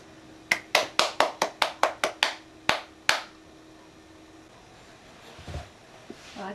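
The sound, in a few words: child clapping hands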